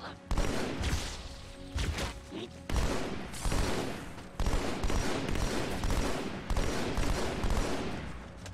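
Loud, dense gunfire from Halo 2, with a sniper rifle among the shots, bursts and blasts packed across the whole stretch with only brief dips between volleys.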